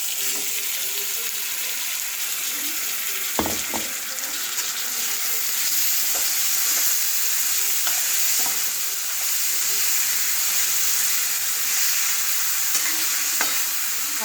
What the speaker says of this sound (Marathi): नंतर कारली घालून परतून घ्यायचे. नंतर एक मोठा टोमॅटो याची प्युरी घालून परतून घ्यायचे.